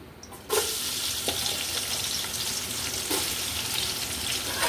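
Onions dropped into hot oil for pilau set off a sudden sizzle after a quiet start, then a continuous close frying hiss with occasional light clinks, no voices.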